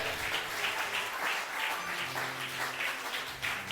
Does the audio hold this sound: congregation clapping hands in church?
yes